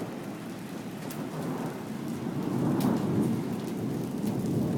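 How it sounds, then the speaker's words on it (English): Hail and heavy rain pour down in a thunderstorm under a tornado warning, a dense steady roar of impacts that swells slightly, with sharper clatters standing out, and no voices. "Oh, it's really hailing."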